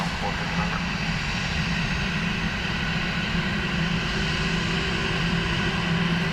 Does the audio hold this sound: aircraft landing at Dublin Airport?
yes